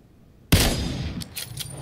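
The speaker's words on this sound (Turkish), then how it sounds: "Ben de bari ne yapayım şu silah seslerine doğru gideceğim." A sudden loud blast of gunfire in the video game PUBG erupts after a moment of quiet, followed by a decaying echo and a few further fainter shots.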